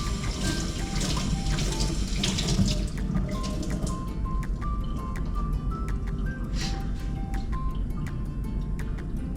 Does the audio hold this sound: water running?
yes